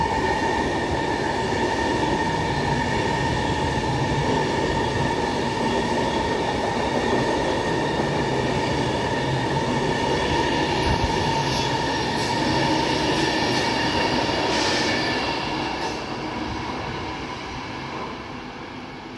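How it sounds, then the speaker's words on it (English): A Pendolino passenger train sweeps through Rugby station on platform 1 on the West Coast Main Line, a loud sustained roar of rolling wheels with some high squeals that fades toward the end, with no talk. "passing through now, while the wipers does its job, is going to be yet another Pendolino"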